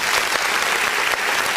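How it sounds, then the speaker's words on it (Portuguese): Church congregation clapping steadily at an online worship service, a dense, continuous wash of applause filling the room without a break, close and fairly loud. "Vamos dar uma salva de palmas para o nosso Deus."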